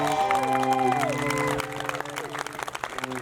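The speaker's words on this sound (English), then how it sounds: "About a big round of applause for our Crown Princess." A crowd at the Maine Lobster Festival coronation ceremony applauds and cheers for the crown princess, a moderate wash of clapping and voices beneath sustained music tones that fade partway through.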